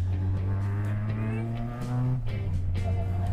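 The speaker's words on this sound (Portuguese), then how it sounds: "Parece um carro turbo, né, o barulho" A turbocharged Volkswagen Gol engine drones steadily with a rising whine, then drops in pitch as it shifts into second gear and picks back up, close and loud.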